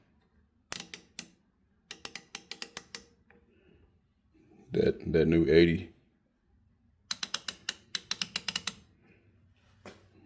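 Bursts of rapid ratchet clicking from Icon, Capri and other ratchet wrenches, each a quick rattling run, separated by pauses, with a short spoken phrase in the middle.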